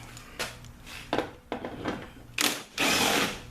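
A nut being loosened and removed from the running light assembly of a 2013 Chevrolet Avalanche, heard as several close, short bursts of ratcheting tool whirring followed by a longer, louder run.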